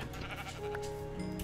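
A sheep in Minecraft gives a short, nasal video-game bleat over a dense, steady background of game sounds.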